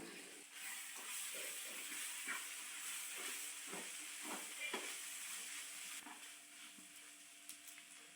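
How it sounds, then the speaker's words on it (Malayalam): Chilli powder, turmeric and crushed pepper frying in a pan for Kerala-style prawn roast, a quiet steady sizzle with soft rhythmic stirring scrapes. "പൊടികളുടെ പച്ചക്കൊത്ത് മാറുന്നത് വരെ ഒന്ന് ഇളക്കി കൊടുക്കാം"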